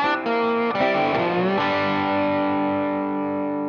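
Slide guitar plays a blues lick in open E tuning with a capo: a loud, distorted electric tone with effects, with quick slides early on that settle into one long ringing note fading slowly.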